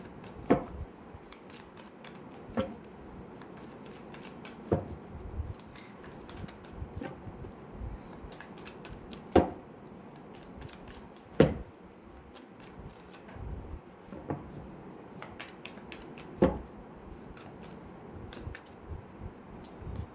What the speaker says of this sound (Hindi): मैं यहाँ पर कार्ड शफल करती हूँ।